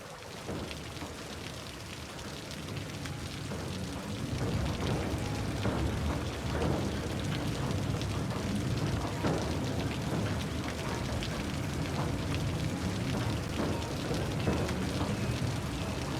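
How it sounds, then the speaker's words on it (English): Steady rain pours down with a dense hiss of drops in the city-building game Cities: Skylines, growing heavier after a few seconds and continuing evenly, with no voices. "It's raining."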